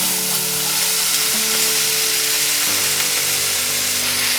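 Sprouted field beans (kadve, val) hit a hot hing and garlic tempering, giving a steady, loud sizzle that carries unbroken to the end, with a faint hum beneath and no voices.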